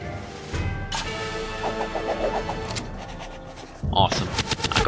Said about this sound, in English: Double Tommy gun!